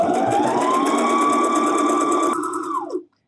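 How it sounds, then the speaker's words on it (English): A sewing machine runs a long straight seam on a fabric face mask, a loud close rapid whirring hum that holds steady and then winds down and stops near the end. "I'm going to sew it exactly the way I sewed the one on the other end"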